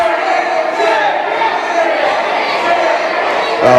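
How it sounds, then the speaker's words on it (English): A wrestling crowd cheers and roars continuously through a match, loud and dense with rising shouts, as a commentator's voice runs over the noise. "Crowd very, very involved right here as Robbie V enters the ring again."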